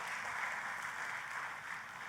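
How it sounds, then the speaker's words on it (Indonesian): Congregation applause for God during a church worship service: a steady, distant wash of many hands clapping, sustained and even with no voices. "Tepuk tangannya yang meriah buat Tuhan kita"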